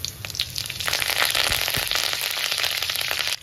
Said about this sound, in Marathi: आता मोहरी टाकून घ्यायची, जिरे टाकायचे थोडेसे, आणि कढीपत्ता टाकायचा.